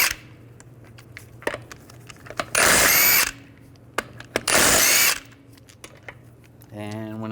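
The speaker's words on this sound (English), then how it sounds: "I'm gonna remove the front wheels using a 17mm socket." A power tool fitted with a 17mm socket spins off wheel lug nuts on a 1998-2010 Volkswagen Beetle in two loud, close bursts of about a second each, with clicks and handling clatter between them and a whirring at the end.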